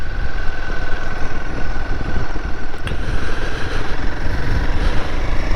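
A Royal Enfield Himalayan 450 motorcycle's single-cylinder engine runs steadily while riding, a loud, continuous close-up drone with a harsh, buzzy edge and wind rush, no pauses throughout.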